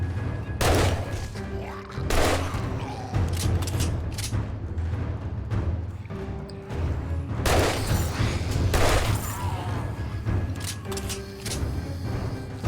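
Gunfire from a favoured gun fired at zombies in the video game 7 Days to Die, with loud close shots landing in several heavy bursts and clustered volleys, plus thuds and mechanical clatter between them.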